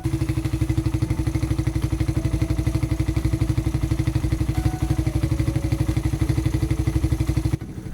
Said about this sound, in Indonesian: kita hidupin dulu ya motornya biar pada denger juga semua